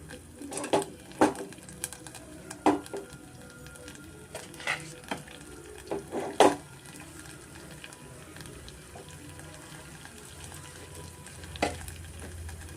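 Hot oil sizzling in a pan with scattered sharp pops and crackles as mustard seeds splutter, curry leaves added, plus occasional clinks of a spoon against metal.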